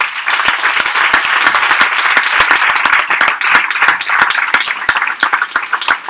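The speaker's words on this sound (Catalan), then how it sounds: "un aplaudiment de part de tots" An audience at a popular-culture stage event at the Ateneu L'Harmonia claps steadily in dense, sustained applause, the many hands forming a loud, even roar of sharp claps that holds for several seconds without pause.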